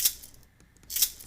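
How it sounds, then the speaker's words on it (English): Two quick bright rattling shakes of a pepper grinder used as a shaker, about a second apart, faint and close with quiet between them. "that was the pepper grinder, that's pretty good"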